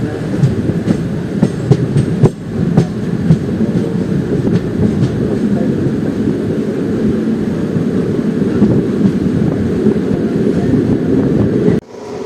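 The Guruvayur–Madurai Express, train 16327/16328, runs on its route via Kollam, Aryankavu and Punalur to Madurai, making a loud, steady rumble with rattling wheel and carriage noise throughout and a brief break near the end.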